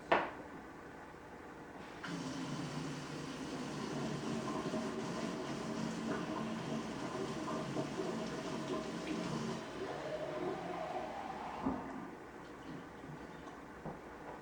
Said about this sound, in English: you fill it up with a little bit of hot water